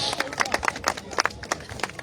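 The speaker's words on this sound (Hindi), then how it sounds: "आपकी जोरदार तालियों में" Scattered, uneven clapping from a crowd at a cricket league prize distribution ceremony, a few loud individual claps standing out over a thinner patter with some background voices.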